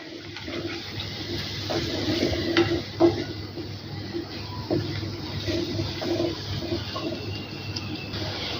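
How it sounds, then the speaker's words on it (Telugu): Eggs fry on a low-to-medium flame and are stirred in a pan, giving a steady soft sizzle with scattered scraping and clinks of the utensil against the metal. "లో టు మీడియం ఫ్లేమ్ అడ్జస్ట్ చేసేసుకుంటూ ఈ ఎగ్ని బాగా ఫ్రై చేసుకోవాలి"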